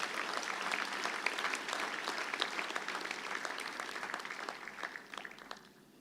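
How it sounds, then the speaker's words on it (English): A university graduation audience claps for the drivers, a steady, dense round of applause heard from a distance that holds evenly and then tapers off at the end. "So I think you need to give a clap to the drivers"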